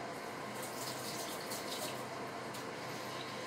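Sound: pouring hot water

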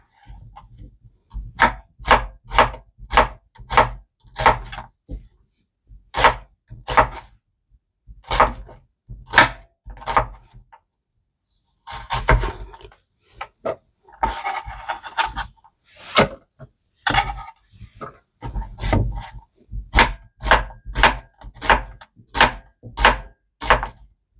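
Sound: chopping a small onion finely on a board

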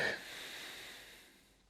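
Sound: exhaling during a yoga exercise

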